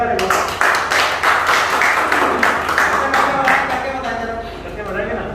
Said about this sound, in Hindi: तो इनके लिए जोरदार ताली कर दो यार।